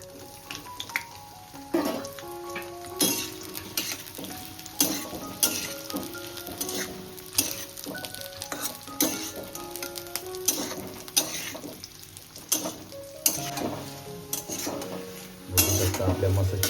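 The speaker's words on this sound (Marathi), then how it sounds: "चला आता आपण चिप्स ॲड करू मस्तपैकी फ्राय करायला." Jackfruit chips fry in ghee, a steady background sizzle broken by frequent metallic clinks and scrapes of a spatula stirring in the pan, close-up with occasional tonal ringing from the utensil.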